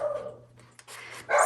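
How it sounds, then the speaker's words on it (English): A dog barks a few times indoors in a quiet room where a green 1956 Royal Quiet Deluxe typewriter is being used, with a louder bark near the end. "Sorry, my dog."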